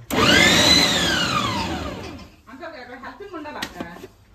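A mixer grinds onions for a chicken curry, a loud whirring motor spinning up then winding down, followed by quieter clatter and someone speaking nearby.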